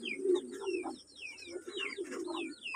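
Homer pigeons coo softly and repeatedly in short bursts while being handled, with chirpy bird calls layered over the low cooing throughout.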